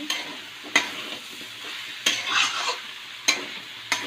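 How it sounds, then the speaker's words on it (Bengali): Spice-coated food sizzles steadily in a pan while a utensil scrapes and stirs it, with sharp clatters at irregular intervals over the constant frying hiss. "এবার একে ভালোভাবে নাড়িয়ে চাড়িয়ে"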